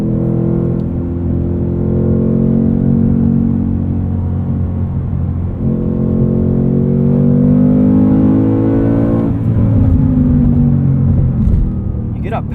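A 2022 Ford Mustang Mach 1 with manual gearbox and Handling Package revs its engine high, a continuous rising and falling roar with strong harmonics, loud and close throughout.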